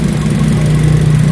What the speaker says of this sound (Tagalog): ito po yung kanyang makina.